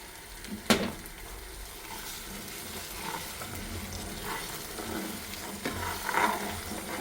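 Schezwan sauce stirred in a pan until the oil separates, a low continuous sizzle and bubbling with a few sharp spoon knocks against the pan.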